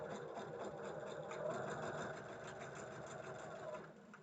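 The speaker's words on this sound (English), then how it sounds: "now I'm just stitching, doing my 1/4 inch" A sewing machine runs steadily on a 1/4 inch quilting seam for Block 3, a continuous close whirring hum of even loudness from start to end, with no talking.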